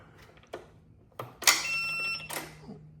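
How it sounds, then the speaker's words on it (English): On a Kymron Chinese excavator being fitted with a new battery, the glow plug relay cycles with a few sharp clicks, then a close electronic tone sounds for about a second before a final click. "There's a glow plug cycling."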